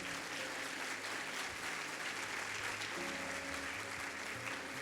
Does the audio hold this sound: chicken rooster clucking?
no